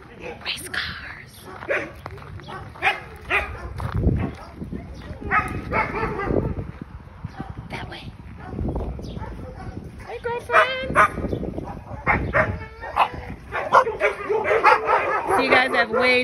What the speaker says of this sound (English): So you guys have way too many dogs here.